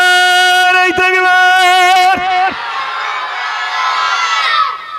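A large crowd at a religious gathering shouts the takbir in unison, a loud sustained chorus of voices that holds, then breaks into a rougher, fading roar.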